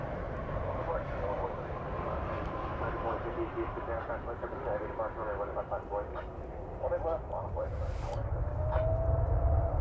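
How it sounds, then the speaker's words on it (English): An American Airlines heavy airliner, flight 123, rolls for takeoff on runway 18 left at DFW Airport, its engine roar building steadily and growing louder toward the end while a person talks over it throughout. "So flight 123 is ready for takeoff."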